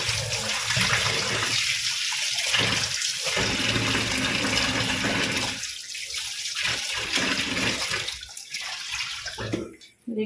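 Tap water runs steadily over meat being washed by hand in a kitchen sink, a continuous broadband splash with brief dips as the pieces are moved under the stream.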